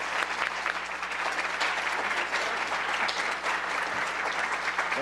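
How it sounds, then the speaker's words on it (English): Sustained audience applause at a Chico Unified School District candidate forum, a steady roomful of clapping hands for the school board candidates, loud and continuous throughout without pause. "Can we give our candidates a round of applause?"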